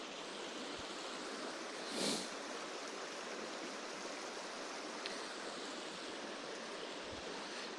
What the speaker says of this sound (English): It's so nice that the entire trail you have the sound of water.